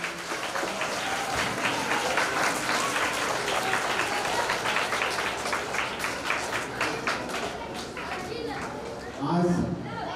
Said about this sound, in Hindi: एक बार जोरदार तालियां दीदी अन्नपूर्णा, एक बार जोरदार तालियां सर के लिए